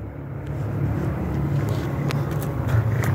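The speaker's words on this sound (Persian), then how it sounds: "صدای ماشینه." A car passes at night near a cemetery, a broad low engine and tyre rumble that swells gradually and holds fairly close, with a few faint clicks, no talk.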